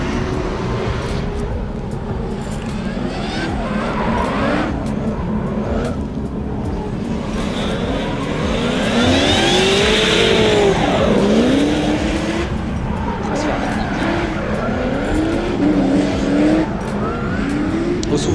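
A Nissan S15 drift car at a drift competition in Val d'Argenton roars close up for the whole stretch, its engine revving hard and rising and falling while the tires squeal in long bursts.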